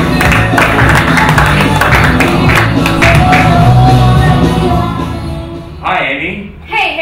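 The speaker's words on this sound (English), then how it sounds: "Please, big round of applause now for Amy Young." A studio audience bursts into applause, shouts and whoops, loud and sustained, then tapers off near the end.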